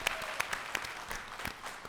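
A convention crowd at Terrificon 2023 breaks into brief, steady applause for AEW wrestlers Danhausen, Wardlow and Ethan Page, with dense clapping and a few sharper claps standing out.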